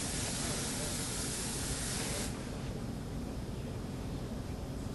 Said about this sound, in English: spray down an aluminum half pan.